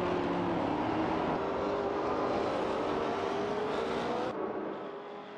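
Porsche 908 and Ford GT40 race cars in a racing video game, their engines droning loud and steady with rising pitch, close together, before the sound drops off abruptly near the end.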